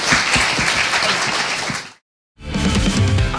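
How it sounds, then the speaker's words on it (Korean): A studio audience claps loudly for a reporter, a thick wash of hands that cuts to sudden silence and then picks up again just as full. "강 기자에게 박수 부탁드립니다."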